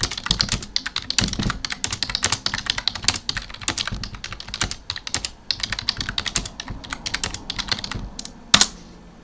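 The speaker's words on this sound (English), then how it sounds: "Let me just quickly type that." Rapid typing on a computer keyboard during a GTA Online session, dense clattering keystrokes in quick bursts, fairly close, with a sharper louder clack near the end.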